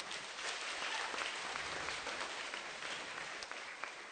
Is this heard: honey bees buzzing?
no